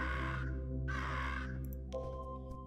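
Crow people in Monument Valley caw in two harsh, drawn-out calls followed by a shorter squawk, loud and close over a steady low hum, with no talking.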